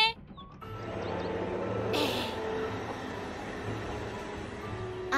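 A cartoon train rolls along its rails with a steady low rumble and wheel noise, moderately loud and continuous, with a brief hiss partway through and no talking.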